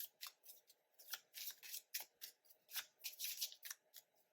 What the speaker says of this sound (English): You can fast forward through the shuffling if you'd like.